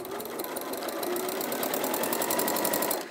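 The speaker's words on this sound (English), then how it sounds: "And so I'll sew a few stitches first" An Elna sewing machine stitches steadily up close, its rapid even needle chatter running without pause for a few seconds before slowing at the end.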